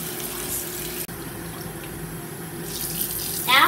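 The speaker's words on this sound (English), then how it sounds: "Now I'm going to fill the whole thing with warm water." Warm water runs from a tap into a bottle in a steady, hissing stream lasting several seconds, briefly interrupted once, with a brighter splashing rise near the end as the bottle fills.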